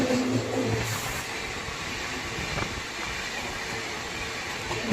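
A Humsafar Express passenger train rolling past close by, a loud continuous rumble of wheels and carriages with rattling and a brief high squeal near the start.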